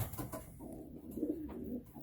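Soft, low coos of young pigeons murmur close by in a loft in a steady, overlapping stream, with a few gentle rustles in the background.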